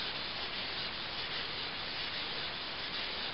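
A Bearcat chipper blade is lapped on a sharpening stone, giving a steady, even abrasive rubbing hiss that runs without a break at moderate level.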